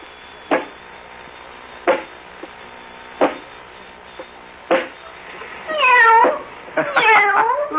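A kitten meows repeatedly, short cries at a steady pace followed by longer, wavering drawn-out meows near the end, loud and close with little else around.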